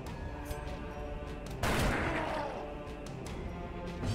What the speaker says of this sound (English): Oh, you shot me in my gut.